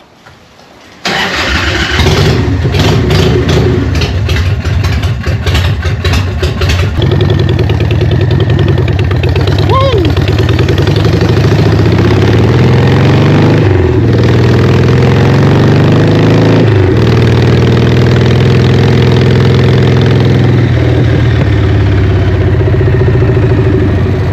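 A Harley Evo chopper motorcycle engine starts and runs loudly up close, with a rough, throbbing idle and a few revs rising and falling.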